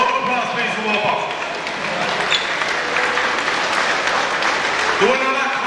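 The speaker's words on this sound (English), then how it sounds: "Round of applause please for Wolf Box." Applause and crowd noise fill an amateur boxing hall as a ringside audience claps for a boxer, with shouting voices and chatter mixed in throughout and a burst of louder voices near the end.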